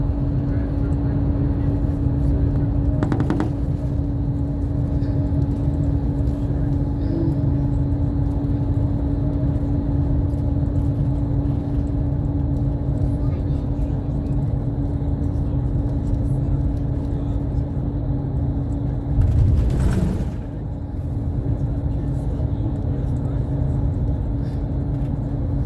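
A car drives steadily through Scottish heather countryside, its engine and road noise a constant low interior drone with a steady hum, a brief louder bump near the end, and voices speaking now and then.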